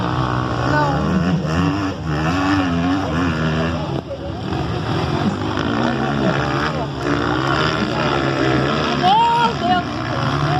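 Motocross motorcycle engines racing around a track at a regional cup event, a loud continuous buzzing roar with rising and falling revs throughout, mixed with excited talk from nearby spectators.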